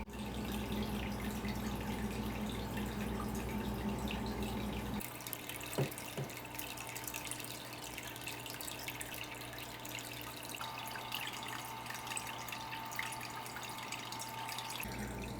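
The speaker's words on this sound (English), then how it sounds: "So right now I'm just drip acclimating them to reduce the shock, and then I'll add them to the tank." Water dripping and trickling during drip acclimation of aquarium snails for a new reef tank. The faint, steady flow sits over a constant low hum, with a few soft drips and clicks partway through.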